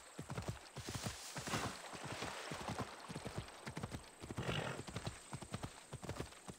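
Rapid hoofbeats clip-clop in a steady galloping rhythm in the video game Assassin's Creed Odyssey, loud and close, with a brief horse whinny partway through.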